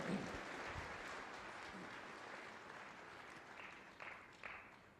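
A church congregation claps together during a Hindi sermon, a soft, diffuse wash of applause heard from a distance, with a few sharper claps near the end.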